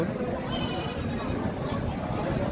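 Young native goats bleat at a large rural livestock market, thin calls rising briefly over a dense crowd murmur and constant talk.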